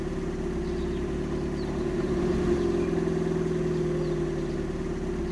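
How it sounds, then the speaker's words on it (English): A car engine idles steadily at low volume, a constant even rumble with a slight swell in the middle and no voices. "Start your car and test the lights."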